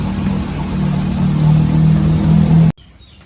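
A Suzuki Jimny engine idles with a steady, loud droning hum during carburetor tuning, holding an even tone before cutting off abruptly near the end.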